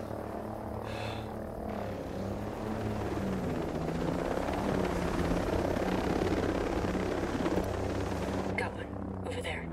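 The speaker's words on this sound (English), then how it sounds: "Chopper in the skies. Watch yourself." A helicopter in a military video game flies overhead with a loud, steady rotor drone that runs the whole time. Gunfire may be mixed in, and the sound thins out near the end.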